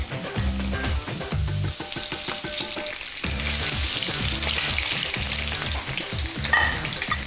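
Steady, loud crackling sizzle of fish frying in hot sunflower oil, continuous throughout with a few sharp pops and scraping clatters, no voices.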